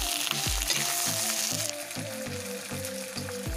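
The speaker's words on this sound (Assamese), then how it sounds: "এতিয়া বিলাহীখিনি বহাই দিলোঁ, দি লৰাই দিছোঁ" Chopped tomatoes sizzling in hot oil in a pan for a chicken recipe, a loud, continuous fry with rhythmic low clunks of a spoon stirring every half second or so, no voices.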